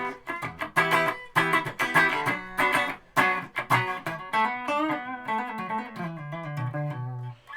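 A Squier Telecaster electric guitar on its neck pickup plays through an amp with reverb, giving a quick run of bright picked notes and chords that settle into lower sustained tones, close and clear.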